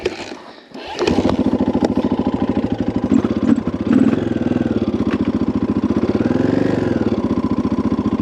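A KTM EXC 530 dual sport motorcycle idles close by after a brief rustle, its single-cylinder engine giving a loud, steady, fast thumping pulse that holds throughout.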